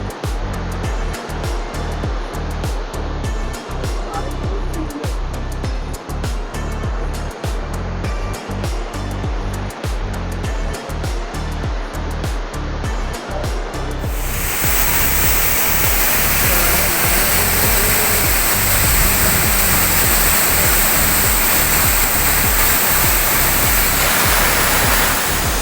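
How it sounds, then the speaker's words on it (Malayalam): Rushing water at Palakuzhy Waterfalls fills the scene as a dense, unbroken roar that grows louder and fuller midway, as if moving closer to the falls. "അങ്ങനെ നമ്മൾ കാത്തിരുന്ന പാലക്കുഴി വാട്ടർഫാൾസ് നമ്മളങ്ങനെ എത്തിയിരിക്കുകയാണ് കേട്ടോ."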